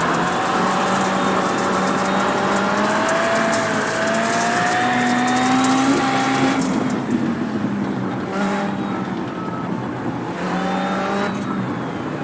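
A VW Beetle rallycross car races at Charlotte in the iRacing sim. Its engine drones loudly and continuously, the pitch rising and falling through gear changes and corners, with faint tire and other car noise behind it and no talk.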